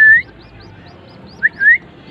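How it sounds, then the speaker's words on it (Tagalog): A pigeon trainer's whistle sounds loud and close in short blasts, one at the start and a pair near the end, while faint, regular bird chirps continue softly in between. "mas matandaan niya na yung tunog ng ating pito"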